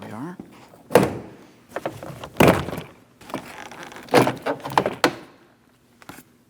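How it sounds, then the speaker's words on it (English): The rear door panel of a 2003-2007 Cadillac CTS is pried and pulled off, with several sharp plastic clip pops and dull thunks spaced irregularly, and someone speaking between them. "Remove the door panel from the vehicle."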